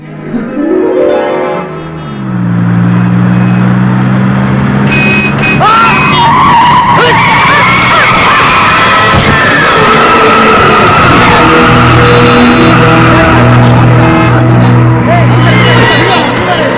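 A car skids and crashes at a city junction in a Malayalam comedy film scene, with a long tire squeal and engine roar building into a loud impact and chaotic aftermath, with voices and crowd babble underneath.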